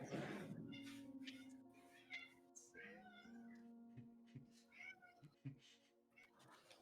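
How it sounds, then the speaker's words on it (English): Big Boy, a pet cat, meows repeatedly and insistently at close range, with drawn-out, wavering yowls coming in an irregular series and a few brief pauses between them. "John John has a cat named Big Boy who tries to gaslight John John into feeding him early."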